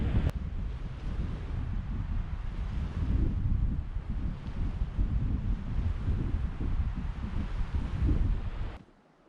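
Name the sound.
wind blowing by a lake in Yellowstone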